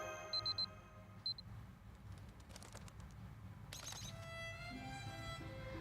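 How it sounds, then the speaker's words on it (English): Alarm ringing in the video game Fate Grand Order, short bursts of high electronic beeping at the start, then faint clicks and a rising chime tone over low background hum, with no voices. "Why isn't the alarm stopping?"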